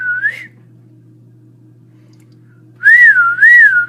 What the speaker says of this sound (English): I'm gonna try whistling.